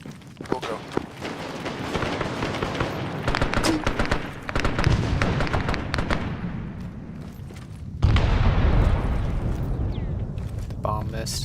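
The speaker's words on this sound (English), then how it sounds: "The bomb missed." Bomb blasts and rolling booms in the military shooter Arma 3, loud bursts with crackling debris, a fresh heavy explosion near the end, with people talking over the battle noise.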